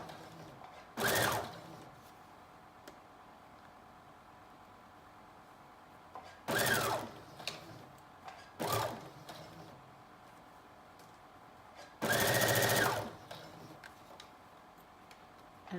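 A sewing machine stitches a knit dress seam in several separate short bursts of about a second each, loud against a quiet room hum, with pauses between runs.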